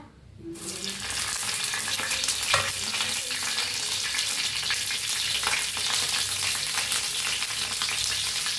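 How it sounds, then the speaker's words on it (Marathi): Green chillies sizzle and spit loudly in hot oil, a constant hissing fry with occasional stirring clinks and pops. "तेल गरम झालं त्याच्यात टाकूया मिरच्या"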